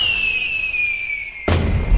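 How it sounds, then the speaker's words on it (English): Fireworks tested outdoors in a children's animated show: a long descending whistle as a rocket climbs, then a loud crackling burst close by, with no voices. "Now let's test those fireworks."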